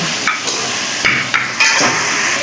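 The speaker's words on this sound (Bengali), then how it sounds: "এবার এক এক করে সব মশলা বেটে নেব।" Spices, ginger among them, are ground into a paste in a home kitchen while cooking chicken with moong dal: a few close, sharp knocks and short scrapes at an uneven pace.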